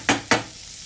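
Cauliflower and potato curry with tomato in a pan on a gas stove, heard as two quick close stirring scrapes over a faint sizzle.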